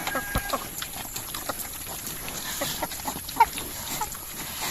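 Pigs eat Madre de Agua plant fodder on a farm, with irregular close crunching and snuffling, soft knocks and one sharper click, under a constant background hum.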